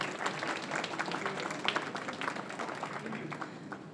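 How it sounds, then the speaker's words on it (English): Applause at a book launch event: a room of people clapping with sharp, uneven hand claps that continue steadily, with some voices murmuring underneath. "I think he deserves a round of applause."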